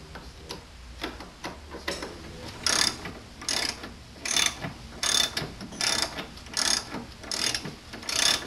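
Ratchet wrench working a bolt loose on a 2007 Ram truck, steady clicking that swells into loud repeated bursts of rapid pawl ticks, about one every 0.7 seconds, close up with no talking.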